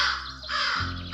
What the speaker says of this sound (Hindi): एक कौवा सुबह से खाने की तलाश में इधर उधर उड़ रहा था